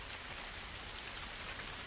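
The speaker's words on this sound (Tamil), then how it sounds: "நீராக மாறி பூமியின் மேல்தளத்திலே மழையாக பொழிந்து கொண்டிருக்கிறது." Steady rain falling on surfaces, a dense continuous hiss of drops at moderate level, with no pauses or talk.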